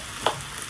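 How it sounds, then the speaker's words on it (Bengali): Fried potatoes stirred into sizzling spice masala with green chillies in a pan, a brief soft scrape of the spoon over a constant gentle frying hiss. "ভাজা আলুটা দিয়ে মশলার সাথে নেড়ে চেড়ে আবার 2 মিনিট আমি কষিয়ে নেব"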